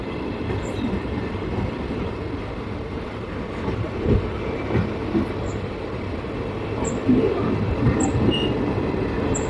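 A long automobile carrier freight train rolls past a railway station under construction, its wagons giving a continuous moderate rumble with irregular clanks and thumps from the wheels, and no talk.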